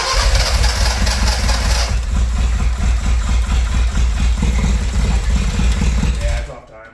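A Toyota Tercel wagon with a swapped 4A 1.6L engine, running loud and rough with an uneven mechanical chatter, then cutting off abruptly near the end; voices are faintly mixed in.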